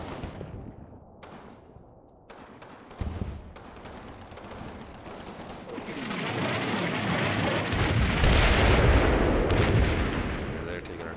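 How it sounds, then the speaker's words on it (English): Artillery and gunfire in the Combat Mission war game: scattered sharp shots early, then a swelling roar of heavy explosions and rumbling barrage builds and stays loud through the second half. "They're taking artillery themselves."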